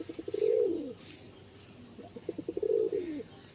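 Two bouts of soft, throaty cooing from white Jiriya Madras pigeons, close and clear, separated by a quiet pause, with no talking.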